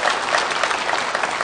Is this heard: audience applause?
yes